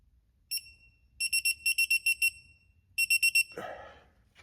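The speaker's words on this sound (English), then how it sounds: "and then it'll beep." A digital torque wrench beeps on reaching set torque while steering rack bushing bolts are tightened on a Subaru BRZ/Scion FR-S/Toyota 86: one sharp beep, then a rapid run of six and a later run of four, ending in a brief rasping tool noise.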